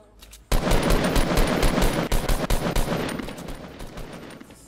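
Fortnite Battle Royale gunfire at Tilted Towers in a Teams of 20 match: after a quiet moment, a loud, continuous burst of rapid automatic shots crackles for several seconds and then tapers off.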